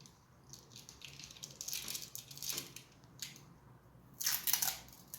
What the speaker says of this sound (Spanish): La pegamos con cinta adhesiva.